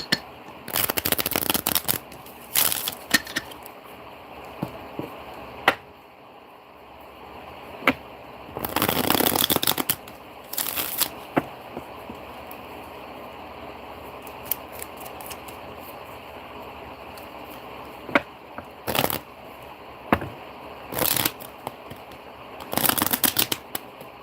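Tarot cards are shuffled in repeated bursts of crisp riffling and flicking, some long and loud, others brief, with quiet pauses between them.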